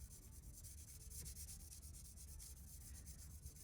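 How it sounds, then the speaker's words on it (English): Soft scratchy rubbing of a Sharpie marker tip scraping back and forth along a wooden toothpick, blackening it, faint and steady with a quick repeating rhythm. "you're just gonna take your Sharpie and make your toothpick black"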